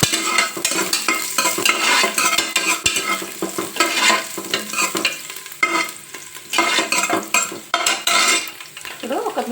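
Chopped ginger and garlic sizzle in hot oil for mutton paya soup while a spoon stirs and scrapes the pan in repeated bursts, close and fairly loud.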